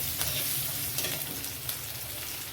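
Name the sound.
stirring garlic paste frying with spices for fish curry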